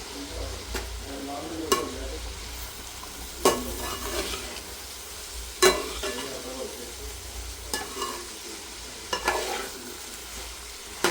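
Carrot curry frying in a pan while a spoon stirs it, giving a steady sizzle broken by repeated sharp scraping clinks against the pan every second or two, with a soft voice faintly in the background.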